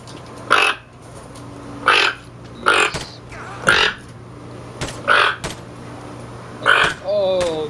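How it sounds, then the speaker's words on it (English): A pet toucan gives its croaking alert call, a rough frog-like or pig-like croak repeated about seven times at a steady pace, close and fairly loud, with a quiet indoor hum underneath. "So this is the croaking sound the toucans make."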